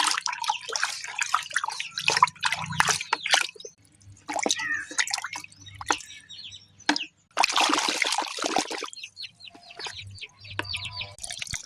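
Liquid garden fertilizer, soaked for three days, is filtered: liquid drips and splashes close by while chickens cluck in the background.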